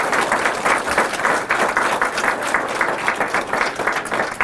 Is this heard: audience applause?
yes